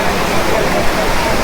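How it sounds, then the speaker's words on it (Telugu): Akasaganga waterfall at Tirumala pours down in a loud, continuous hissing rush of falling water, heard close and steady with no breaks. "సో ఇక్కడ నుండి అయితే వాటర్ అయితే వెళ్తున్నాయి అటు కిందికి"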